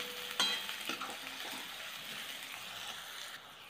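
Onions frying in a pan for a boiled egg recipe, a soft, fairly quiet sizzle with several scraping stirs and a spoon clink near the start, easing off toward the end.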